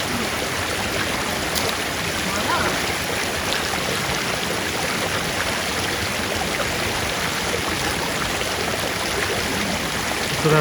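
Creek water flowing beneath a sheet of ice in a snowy canyon, a constant bright rushing and gurgling that stays loud and close throughout, with no talking.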